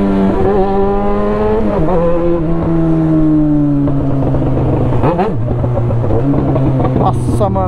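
Yamaha XJ6 motorcycle engine revving loudly up close, its pitch climbing and falling through several throttle blips and sustained revs, with a brief higher whine near the end.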